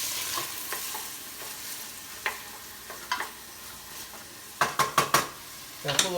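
Anchovies sizzling and melting in olive oil in a pan while cooking a lobster puttanesca, with a soft steady fry broken by sharp clinks of a utensil stirring against the pan.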